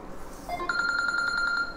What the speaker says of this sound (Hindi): क्षमा कीजिए फोन बज रहा था